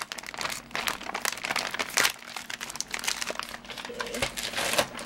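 Crinkling and crackling of a plastic package being handled and pulled open close by, in irregular bursts.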